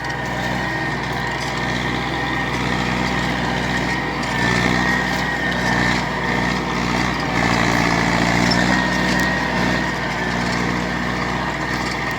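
An MTZ 80 tractor ploughing a field, its engine droning steadily and loudly at close range with a constant low hum and mechanical rattle, no talk over it.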